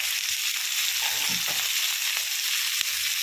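Chopped onions sauté in a pan for a Kerala-style long bean stir-fry, giving a steady loud sizzle with a few soft scraping stirs underneath.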